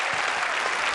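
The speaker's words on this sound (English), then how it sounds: "Listen to the applause." Dense, sustained applause from a crowd at a world pool championship final fills the arena evenly and loudly with no break.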